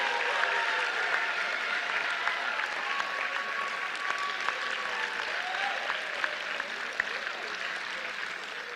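A large audience applauds graduates at a year-end graduation ceremony, a steady, dense wash of clapping sustained throughout with a few sharper claps and faint cheers.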